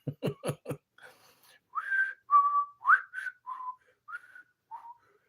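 After a few quick taps at the start, one person whistles a short, wavering tune of separate gliding notes, close and alone, pitches sliding up and down.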